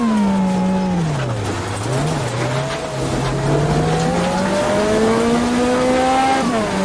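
A supercharged Lancia Delta S4 Group B rally car in a racing game climbs the Transfagarasan mountain road, its engine pitch dipping and rising through gear changes, loud and close, with brief tire squeal.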